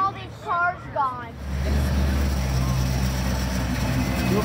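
A car pulls away from the Donut Derelicts morning car meet in Huntington Beach. A few spoken words come first, then a low, steady engine rumble takes over and continues without a break.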